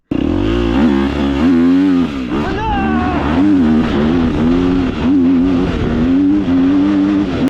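A Chinese enduro motorcycle with a KTM engine revs hard under repeated throttle blips, close and loud, its pitch climbing and falling in several surges with a brief dip midway.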